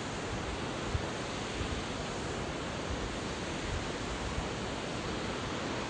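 Near Rainbow Bridge in Nantou, Taiwan, a waterfall gives a dense, steady rushing roar that fills the whole scene without a break.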